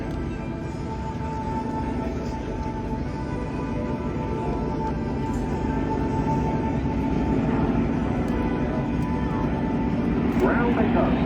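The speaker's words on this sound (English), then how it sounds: "Design features on this aircraft, particularly if you get a view of it coming towards you" A 1958 Douglas DC-6B four-engine propeller airliner in Red Bull colours drones past at an air display, a steady distant engine rumble that grows slightly louder, with an announcer talking over it.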